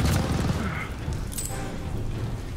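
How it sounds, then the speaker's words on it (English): A frag grenade blast in the Call of Duty Vanguard video game sounds as a loud, booming explosion with rumbling gunfire around it, then trails off into a sustained low roar. "Might try and get a frag grenade up there."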